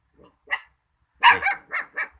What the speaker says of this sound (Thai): ว่าจะแม่นเห่าหยังกระดอเนี่ย